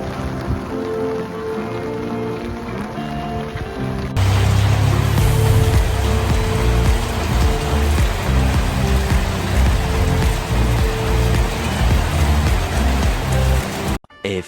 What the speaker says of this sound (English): now it's really raining and we have to go inside